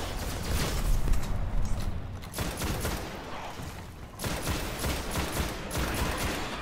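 Rapid bursts of automatic gunfire from a Destiny beta firefight crackle loudly and almost continuously, with a couple of brief lulls between volleys.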